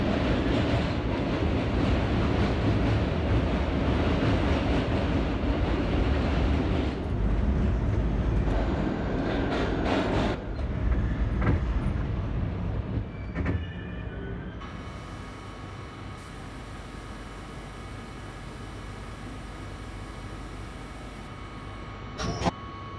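An R38 subway train running on the A line, heard from on board as a steady, loud rumble and clattering rattle, settling later into a smoother ride with a sustained electric whine and a brief sharp clack at the end.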